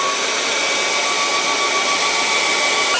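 A hair dryer blows on a painting to dry it, producing a loud, steady close whoosh of rushing air with a faint high whine that holds unbroken throughout.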